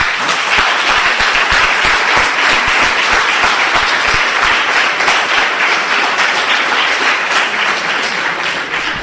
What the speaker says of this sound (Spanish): Eso se merece un aplauso.